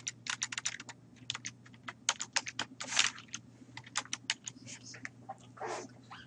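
Rapid bursts of keystrokes on a computer keyboard while an equation is typed in, close and fairly loud, with brief pauses between clusters and a steady low hum underneath.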